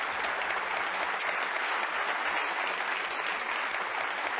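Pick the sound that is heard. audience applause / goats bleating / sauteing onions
audience applause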